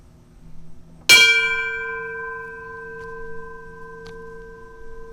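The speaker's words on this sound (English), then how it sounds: "as I read their names and we ring a bell and have a moment of silence" A single memorial bell strikes once at a 9/11 commemoration, a sharp clang that rings on with long, clear sustained tones slowly fading in a quiet room.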